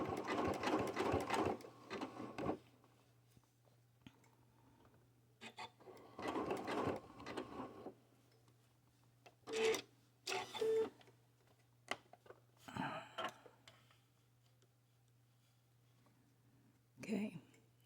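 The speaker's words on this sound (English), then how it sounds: "now I'm going to sew across this end" A sewing machine stitches across the end of a jelly roll rug in several separate bursts, with quiet pauses between runs and a steady low hum underneath, and a person talks briefly near the start.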